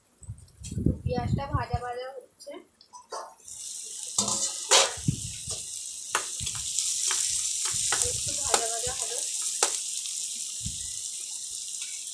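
Onion fries in a pan alongside fish after the lid comes off. Speech and a few clinks come first, then a steady, fairly loud sizzle builds and holds with occasional knocks.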